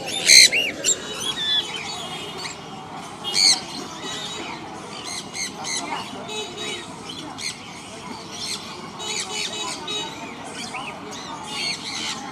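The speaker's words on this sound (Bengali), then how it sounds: "এইটা কি পাখি সানকুলো দেখেন খুবই সুন্দর পাখি" A sun conure parrot squawks at a busy bird market, with shrill calls and chirps from other birds throughout and a loud burst of squawking at the start, while people talk in the background.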